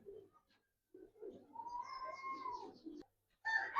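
Close, soft cooing of Giribaz pigeons in a quiet setting, a low throaty call followed by a brief murmur.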